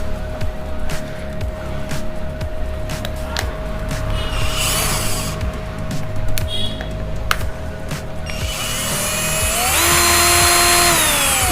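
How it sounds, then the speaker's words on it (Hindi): A Ralli Wolf reverse/forward variable-speed power drill whirs steadily at close range, with scattered clicks and handling noise, then its pitch climbs as the motor speeds up near the end. "ये reverse forward variable speed machine है।"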